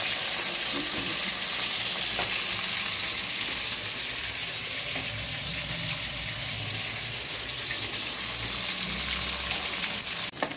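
Steady, dense sizzling of soya chaap frying in hot oil, continuous and fairly loud throughout with no voices.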